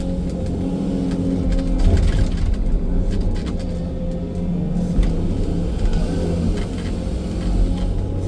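Sany 305 excavator engine working hard while lifting a car, a loud continuous diesel rumble with slight rises in load and no speech over it.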